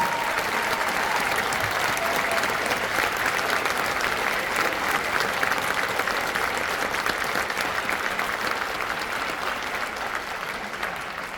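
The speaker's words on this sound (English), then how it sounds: "can we just have one big round of applause for both the Symphonic Band and Ensemble?" Sustained, full applause from a concert audience for a school symphonic band and ensemble at a spring band concert, a dense wash of clapping holding steady for over ten seconds and tapering only slightly at the close.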